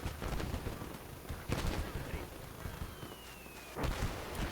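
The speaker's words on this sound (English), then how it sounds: "Sounds like a mortar." Mortar and artillery blasts in the World War II game Gates of Hell: Ostfront, several booming impacts at irregular intervals, mid-distance, with faint voices and battle noise underneath.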